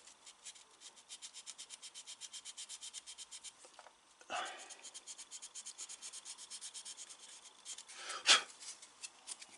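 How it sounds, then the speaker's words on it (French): A small abrasive held at an angle sands the end of a piece, a quiet, close, regular back-and-forth rasping in quick even strokes, then a pause and a few louder scrapes. "petit abrasif que je peux mettre en angle comme ça, puis venir poncer le bout là"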